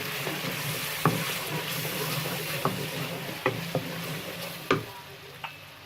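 Red chili powder, turmeric, cumin and salt stirred and frying in a pan for a taro root masala, a steady soft sizzle with a few sharp clinks of a spoon against the pan, no voices.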